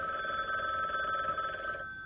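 A telephone rings inside a mansion in a video game, with a continuous bright warbling bell tone that sounds near and fairly loud before cutting off abruptly near the end.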